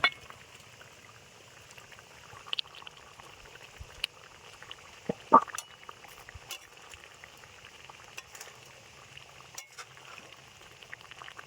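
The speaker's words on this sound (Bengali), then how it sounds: "গ্রেভিটা ফুটে উঠেছে" Gravy for a cabbage and egg curry bubbles in a pan, making a quiet, low simmer with scattered small pops and one brief clatter midway.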